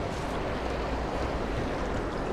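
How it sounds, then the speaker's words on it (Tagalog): Strong water current flowing steadily and loudly, a dense continuous rush with wind buffeting the microphone, close and constant with no talking. "Malakas kasi yung agos ng tubig"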